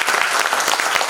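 An audience at a theatre event gives a hearty round of applause to welcome a guest, a brief, dense and loud burst of clapping.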